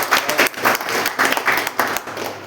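Audience applause at a founder's speech event, a burst of loud, dense hand clapping that rises and falls in rippling waves throughout.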